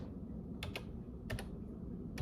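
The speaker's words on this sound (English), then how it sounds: "We're typing the SPY." Typing on a computer keyboard, with a few quick separated keystrokes in small bursts over a low steady room hum, near and fairly quiet.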